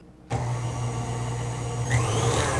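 A stand mixer with a paddle attachment beats thick pumpkin coffee cake batter, starting abruptly into a steady, loud motor whir with a steady low hum that rises slightly in pitch near the end.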